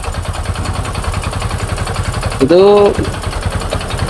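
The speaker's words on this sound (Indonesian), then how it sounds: "suara dari karburator ini terlalu ngos ya" A Honda Supra X 125 motorcycle with weak compression idles close by, its carburetor giving a rough, breathy chuffing as the engine pulses steadily, with a brief sharp burst partway through and someone talking over it.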